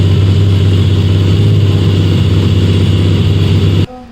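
Modified Hero Xpulse 200 motorcycle, built for autocross and motocross, runs steadily with a loud, close, throbbing engine note that holds for nearly four seconds, then cuts off abruptly.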